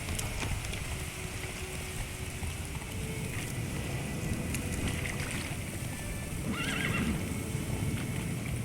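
A horse in The Witcher 3 gives a clear whinny partway through, over steady clip-clop hoofbeats and a soft rainy ambience.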